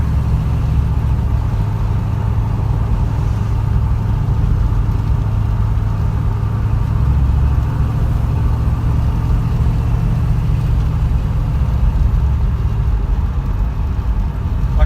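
A white and blue Ford Mustang coupe engine hums with a steady low drone throughout, pulling away in traffic with continuous engine noise and no speech.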